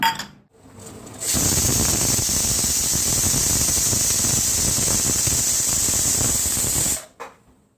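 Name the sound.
pressure cooker whistling while cooking carrot and pumpkin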